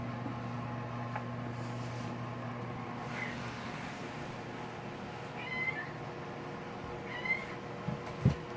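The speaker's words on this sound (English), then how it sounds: "So these two kitties are Sparkle and Silver, both females" Two gray female kittens give several faint, thin meows spaced a few seconds apart over a steady low indoor hum.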